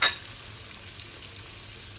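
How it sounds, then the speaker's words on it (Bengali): Chopped onions hitting hot oil in a pan: a short burst of crackle at the start settles into a quiet, even frying sizzle. "এই তেলের মধ্যেই আমি পেঁয়াজগুলোকে দিয়ে দিব। এখানে পরিমাণ মতো পেঁয়াজ কুচি দিয়ে দিব"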